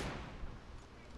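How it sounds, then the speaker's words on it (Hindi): M24 sniper rifle in PUBG Mobile: a single brief, faint gunshot boom with a short rumbling tail. "तो हम अपना पहला शॉट मारते हैं"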